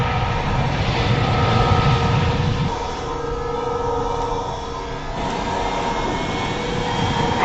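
Plane in flight from the film The Langoliers, a sustained droning engine roar with a tonal whine that drops in level partway through, continuous and fairly loud.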